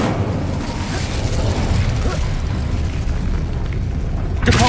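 Incendio fire spell cast in the Hogwarts video game, a sustained roaring, rumbling burst of flame that fills the clip loudly, with a fresh flare near the end.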